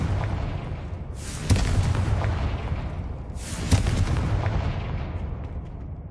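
Two booming fire-spell blasts from the Hogwarts Legacy video game, each a sharp crack swelling into a rolling, rumbling roar over steady background din, several seconds apart.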